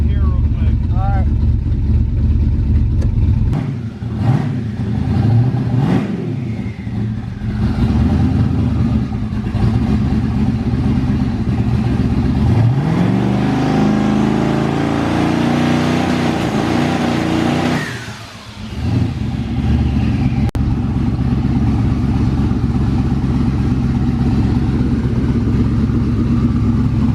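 Twin-turbo LS-swapped Mustang revving against the trans brake, with a loud, sustained engine drone that rises and falls through repeated revs, then drops off near the end; voices talk over it.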